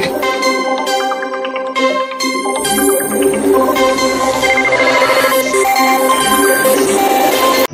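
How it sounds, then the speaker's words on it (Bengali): A phone rings with a musical ringtone in a Bengali horror audio drama. Bright chiming, bell-like notes play a looping melody, loud and close with no voices. "বাপি দেখলো বাবাই ফোন করেছে"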